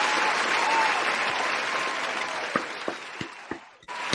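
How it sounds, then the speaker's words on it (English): A canned applause sound effect triggered on a podcast, a full crowd clapping that tapers off, ending with a few scattered loud claps and an abrupt cut. "Let me find my applause meter."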